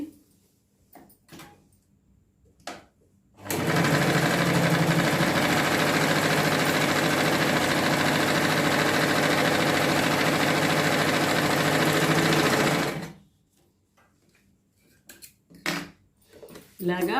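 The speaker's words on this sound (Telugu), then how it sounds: "ఈ కింద సైడ్ ఒక కుట్టు వేయండి" An electric sewing machine running continuously for about nine seconds while stitching a seam on a patiala salwar, a steady loud whirring hum, framed by quieter handling of fabric and small clicks before and after.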